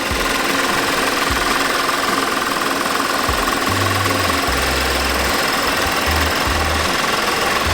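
The 3.2L engine of an Audi A6 Quattro S Line with over 200,000 miles runs at a steady idle, a close, constant drone with faint low thumps underneath and no talking.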